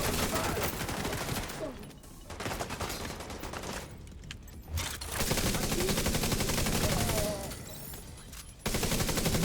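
In a video game, a player attacks a sniper turret with sustained rapid gunfire. The bursts come loud and dense with short gaps between volleys, and no talk is heard.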